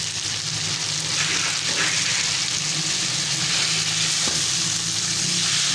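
Tomatoes, ketchup and vinegar sizzle steadily in a hot pan for homemade sawiyan pasta sauce, a continuous bright frying hiss with faint scrapes of stirring, no voices.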